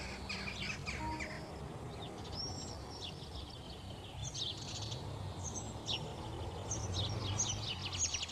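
Small birds, house sparrows among them, chirp and twitter in a steady, busy chorus of short high calls, fairly close, over a low outdoor rumble with no talking.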